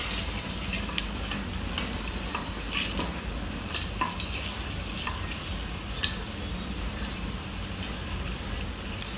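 Fennel seeds and bay leaves frying in hot oil for vegetable biryani, a steady close sizzle with scattered crackles and pops and no talk.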